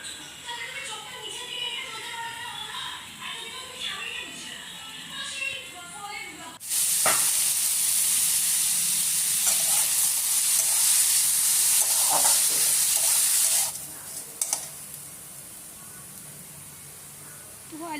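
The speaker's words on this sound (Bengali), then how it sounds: "এবার সেম কড়াতেই আমি তেল দিচ্ছি, দিয়ে আমি বানাবো আলুর ভাজি।" Diced, salted potatoes fry in oil in a wok, starting with light stirring and soft crackle. A sudden loud, steady sizzling hiss then rises for about seven seconds before dropping back to quieter frying.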